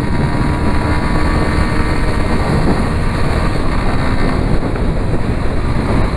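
Engine of a Yamaha Fazer 250 motorcycle, just fitted with a new spark plug and plug lead, pulling hard on a highway, a loud continuous drone laced with heavy wind rush, with no voices.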